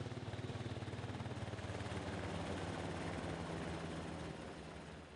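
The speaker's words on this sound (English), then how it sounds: "that's one of those U.S. Coast Guard helicopters doing a grid search near the Venice Pier" U.S. Coast Guard helicopter flying a grid search near the Venice Pier, a steady rhythmic rotor thump over engine drone, fairly distant and faint, with no speech.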